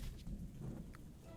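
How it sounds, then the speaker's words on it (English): Thunder rumbles in a lightning storm in the video game Cleo: A Pirate's Tale, a deep low roll with a soft wash of rain above it, quiet and brief, with no talking. "the lightning struck."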